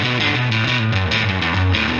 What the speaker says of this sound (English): It's obviously very gainy, and when you play, especially the lower strings, it gets quite fuzzy.